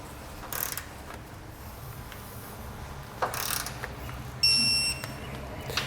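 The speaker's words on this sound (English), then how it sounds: "I'm going to torque all 4 of these bolts down over here before I break off the handles on the handle nuts" A 9/16 socket on a wrench torques bolts on a Blue Ox base plate kit for a 2003 Jeep Wrangler: a few faint, brief ratcheting bursts and a short electronic beep near the end over quiet background.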